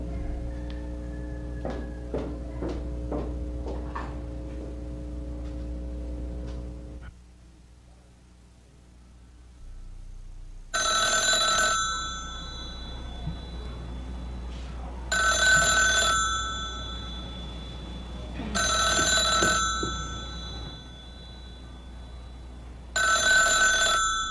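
A telephone ringing when a call is placed late at night, four loud electronic rings in a regular pattern with pauses between them, following some earlier tonal beeps.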